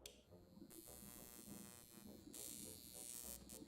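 A small handheld electric stimulation device, shaped like a toothbrush, buzzes steadily after being switched on, a faint continuous electric drone that brightens partway through, heard alone without talk.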